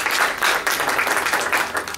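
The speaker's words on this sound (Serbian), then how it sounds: "i još jedan aplauz za njega" An audience applauds at a book presentation with dense, steady clapping that stays loud throughout the short burst.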